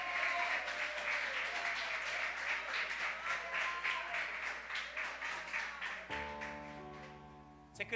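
Congregation clapping throughout a church service sermon, dense and steady, fading out near the end as a sustained musical tone enters.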